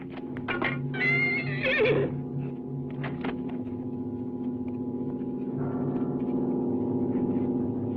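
A horse neighs in a clear, loud whinny with a rising, shaking call, followed by several shorter snorts and fainter whinnies over a steady low hum, with faint hoof clops nearby.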